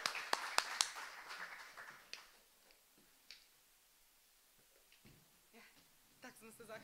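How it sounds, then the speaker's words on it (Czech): A few sharp hand claps ring out close by in quick succession near the start, then fade into faint scattered ticks and soft background sounds in a talk-show setting. "Ještě tleskám já Pepemu"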